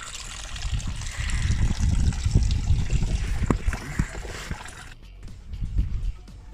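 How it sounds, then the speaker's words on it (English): Engine coolant splashing and trickling from the radiator drain plug of a Suzuki Jimny, a steady liquid patter that stops abruptly, then a few quieter drips and dribbles follow. "So the coolant is pretty much finished draining"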